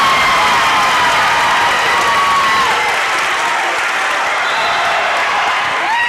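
A high school volleyball crowd in a gym at a sectional match cheers and claps continuously, a loud sustained roar of shouts, applause and whistles with a commentator's voice running underneath.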